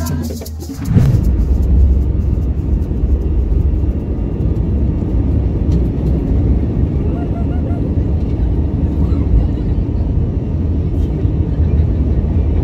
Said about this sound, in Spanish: el vuelo de Viva Air despegó desde Bogotá con destino a La Arenosa